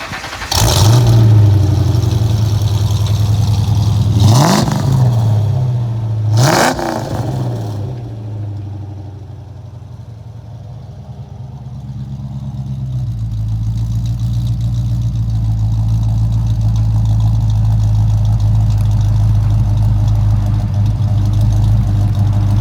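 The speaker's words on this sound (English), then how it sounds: "I'm excited for you to hear this performance exhaust, and here it comes" A 1994 Ford Mustang GT 5.0L V8 with a performance exhaust roars through two sharp revs in quick succession, then settles into a deep, loud, rumbling idle that swells again toward the end.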